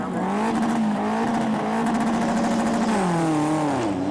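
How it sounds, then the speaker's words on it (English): Two front-wheel-drive drag race cars launch off the line at a Japanese car show drag event, with loud, strained engine revving that rises and wavers in pitch, plus some tire noise. "both cars sound a little sluggish off the line"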